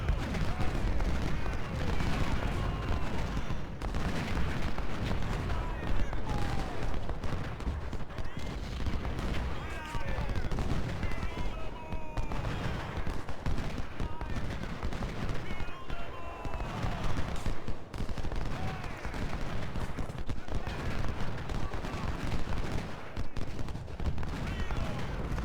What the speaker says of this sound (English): even the ships are shooting